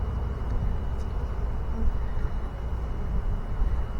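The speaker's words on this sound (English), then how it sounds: "Oh yeah, that's a bunch of bees" A honey bee swarm buzzing, a continuous low droning hum from many bees close by, steady and unbroken with no talk.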